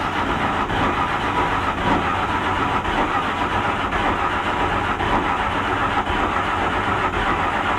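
A rat rod engine cranks repeatedly without firing, a steady loud churning whir running the whole time with no catch or rev-up.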